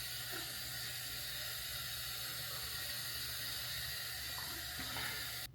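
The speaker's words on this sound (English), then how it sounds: "The water is pretty hot." Hot water pours steadily from a tap into a sink in a hotel room, a continuous close rushing hiss with faint metallic clicks, stopping abruptly at the end.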